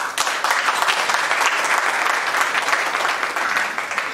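Wedding guests at a civil ceremony in Lakota applaud, a dense, loud, continuous clatter of many hands clapping together with no break.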